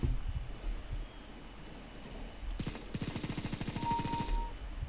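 Rapid automatic gunfire in Counter-Strike: Global Offensive, running as a fast burst of evenly spaced shots for about two seconds over quieter game ambience.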